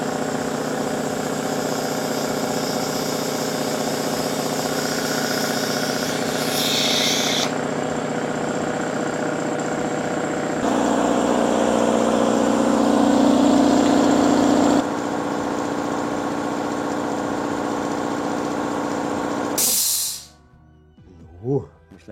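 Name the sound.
air compressor running, filling 115 litre tank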